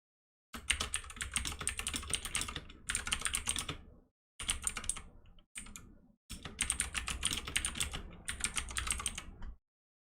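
Fast clicking keystrokes on a computer keyboard come in several bursts separated by short pauses, close and clear with no voices.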